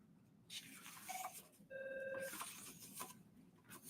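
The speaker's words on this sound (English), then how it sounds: "Ignore the phone, please." An electronic telephone ringing in a quiet room, a couple of short tonal trill bursts with a steady beeping pattern, moderately loud against faint background noise.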